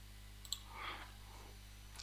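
Single sharp computer mouse click, faint and close, over a steady low electrical hum, followed by a soft brief rustle and another small click near the end.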